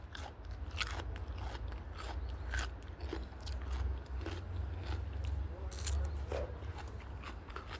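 Someone biting into and chewing fresh vegetables picked from a home garden in Germany: quiet, close crisp crunches repeating irregularly over a low background rumble.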